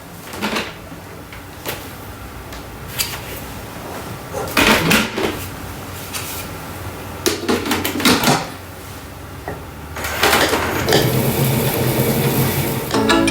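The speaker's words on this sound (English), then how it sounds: "we're going to knead it for a minute and a half" Thermomix kneading dough for hot dog buns: a steady mechanical churn with repeated thumps and clatter as the dough knocks inside the bowl, moderately loud and continuous.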